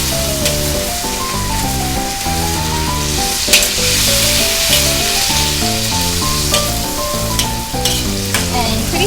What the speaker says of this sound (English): now I'm going to keep stirring it.